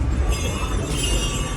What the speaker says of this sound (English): But now the train is moving back, is now stopping